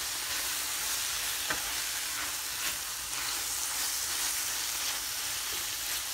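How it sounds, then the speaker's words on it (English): Vegetables for Filipino pinakbet sauté in a pan with a steady, even frying hiss that barely varies, with a couple of faint clicks from stirring. "Sauteing for about 5 minutes. You can see it's kind of starting to brown a little bit on the bottom of the pan."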